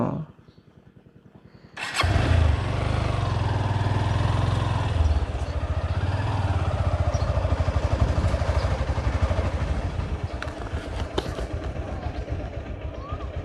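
A motorcycle engine starts and idles loud and close on a village road in Koroigora, Dhobaura, Bangladesh, rumbling with a steady clattering throb as the bike turns, while people talk nearby.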